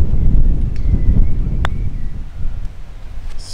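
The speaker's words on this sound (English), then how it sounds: "And the wind." Strong wind gusting across a golf course, buffeting the microphone with a loud, continuous low roar and rumble, joined by a brief faint tick.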